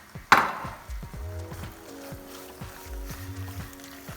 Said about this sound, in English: And give it a good mix till it's about just melted through.